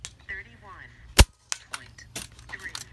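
A single sharp crack from a stock FX Dreamline 5.5 Saber Tactical air rifle test-fired outdoors, loud and close, with talk before and after the shot.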